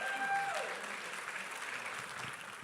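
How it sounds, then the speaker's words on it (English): An audience claps in a soft, continuous patter for a couple of seconds, with a brief whistle-like tone at the very start. "Come on, let's give him a big round of applause."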